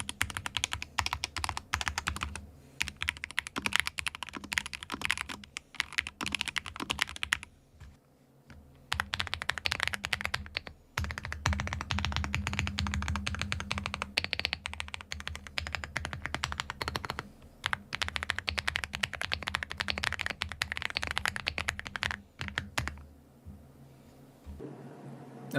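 Steady, close bursts of typing on a modded computer keyboard, crisp clacking keystrokes in fast runs with brief pauses between sessions, no talking.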